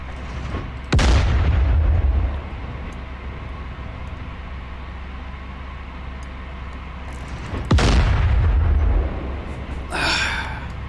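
A tank in DCS World fires armor-piercing rounds at NATO ships, two heavy booming shots several seconds apart, each with a deep rolling tail, over a steady low engine rumble and a short distorted burst at the end.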